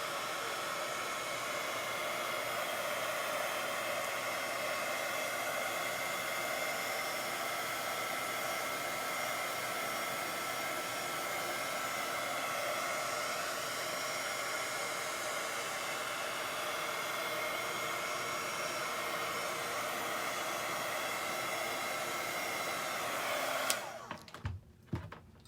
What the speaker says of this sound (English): If you don't have, this is American Crafts Zap heat tool.